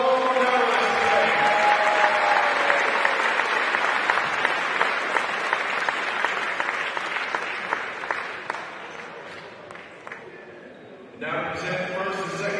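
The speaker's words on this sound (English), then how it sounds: "I'll make a round of applause for all the medalists today" Crowd at a basketball nationals gold medal game applauding the medalists, a long sustained round of clapping that slowly thins out, followed by a voice at the end.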